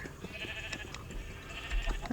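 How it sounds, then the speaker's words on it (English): Sheep in Minecraft bleat in a game world, a wavering nasal bleat drawn out across the clip at moderate volume with soft clicks and game sounds around it, no talking. "there's a lot of you gray sheep"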